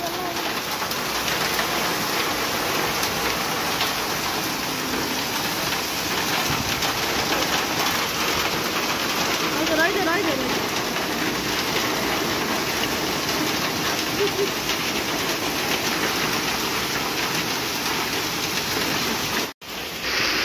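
Heavy rain pours steadily throughout, a dense continuous roar of drops, with birds cooing faintly in the background.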